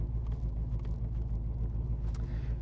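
A 1979 Pontiac Trans Am engine running just after a cold start, giving a steady low rumble with a faint pulsing throb and no voices.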